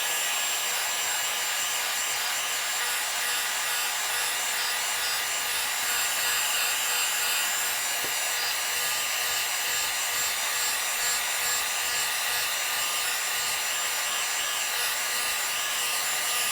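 A heat gun warms a Samsung Skyrocket phone during LCD repair, giving a steady close airy blowing hiss that runs unbroken throughout with no talk.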